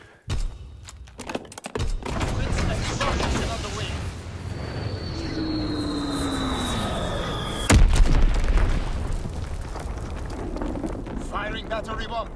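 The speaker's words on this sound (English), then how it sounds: "Dropping Fritz X bomb." A Fritz X guided bomb in a video game falls with a descending whistle, then hits with a deep booming explosion partway through, while a voice talks over much of it.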